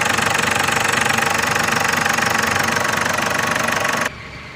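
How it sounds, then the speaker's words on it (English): A Ford Endeavour engine runs loud and close with a steady, slightly knocking idle, then cuts off abruptly near the end, leaving faint background noise. "when I give a little petrol, the vehicle starts right up"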